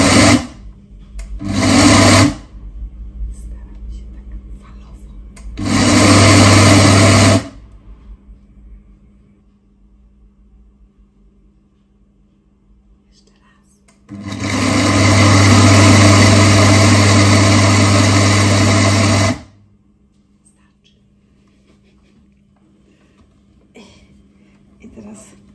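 An electric grinder grinds coffee beans in three loud, steady whirring bursts, the last lasting about five seconds, each cutting off abruptly into near quiet.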